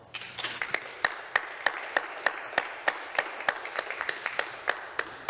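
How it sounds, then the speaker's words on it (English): Legislature members applauding in a chamber, a sparse patter of individual claps and desk taps in an irregular but steady rhythm, moderately near and fairly faint, with no talking. "I thank my colleagues for a generous and as yet unearned applause"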